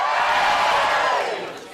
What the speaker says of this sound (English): Give me a cheer if you're single.